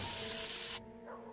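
Pepper spray fires in a video game as a loud, broad hiss that lasts under a second, then cuts off abruptly, leaving quieter background sound.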